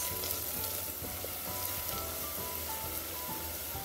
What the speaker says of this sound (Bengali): নেড়ে চেড়ে কষিয়ে নিচ্ছি 2 মিনিট।